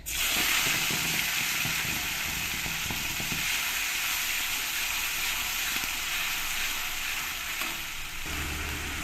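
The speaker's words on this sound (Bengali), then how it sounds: "পেঁয়াজটা একটু ভালো করে কষিয়ে নিতে হবে" Onion paste sizzles hard in hot oil already crackling with bay leaf, dried red chillies and nigella seeds, for a mustard pomfret curry: a dense, loud, unbroken frying hiss held close for the whole stretch.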